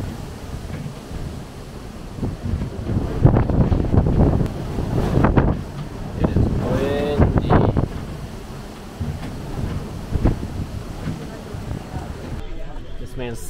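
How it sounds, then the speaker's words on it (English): Strong wind buffets the microphone with a rough, constant roar, while water sloshes and waves wash nearby throughout on a cruise. "it was too windy and too many waves"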